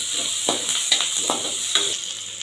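Browned onions with turmeric and dried red chilies frying and being stirred in a pan, a steady close sizzle with a few soft scraping strokes of the spoon.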